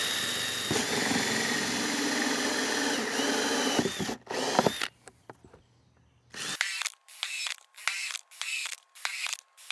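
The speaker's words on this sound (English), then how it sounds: "Let's get the drill set up for that." A power drill whirs continuously, then runs in a series of short, repeated bursts with brief pauses between them, close by, drilling rows of holes in a plastic flower pot.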